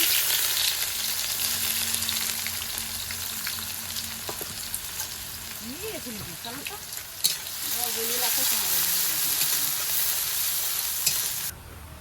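Chopped onions with whole dried red chillies fry in a pan for jackfruit biryani, sizzling steadily and scraped by a stirring spoon, while a voice speaks briefly over the cooking.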